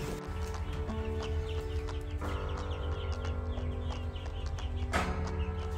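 Easter Egger chicks being moved to a barn at about eight weeks old, clucking and peeping in a steady chorus that carries on throughout, with an ongoing mechanical hum beneath.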